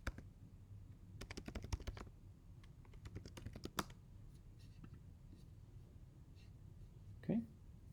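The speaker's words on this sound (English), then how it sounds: "I'm going to type in my own email." Keys clack on a computer keyboard as an email address is typed, in quick close bursts of clicks followed by sparser taps and a final firmer keystroke, with quiet room noise between.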